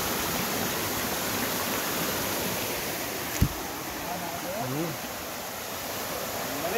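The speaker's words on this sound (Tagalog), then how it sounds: "Secret Falls pala to. Yung tawag nilang Secret Falls." Secret Falls at Baliti Falls in San Jose del Monte, Bulacan, rushes in a steady broadband roar, close and continuous, with a brief knock and faint voices under the water.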